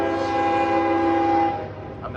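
A train horn blares loud and sustained with a steady chord of tones, then cuts off as the rail noise of the passing train rumbles on nearby.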